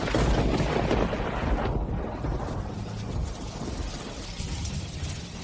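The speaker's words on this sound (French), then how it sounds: "Ça doit être la pluie, trop forte." Heavy rain pours down in a dense, continuous rushing wash with low rumbling underneath, steady and fairly loud throughout.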